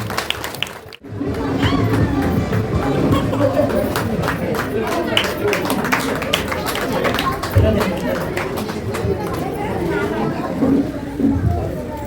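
Audience at a ceremony honouring high-scoring students claps steadily for several seconds, dense and fairly close, mixed with crowd chatter and shuffling throughout.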